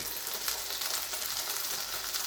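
Doner kebab burger meat frying in a pan, a steady close sizzle with dense crackling spread evenly throughout, no voices.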